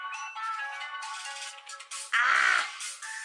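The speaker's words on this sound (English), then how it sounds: "Why is the phone ringing?" A phone rings with a bright electronic ringtone melody, shifting tones and a brief harsher burst partway through, loud and close with no talking.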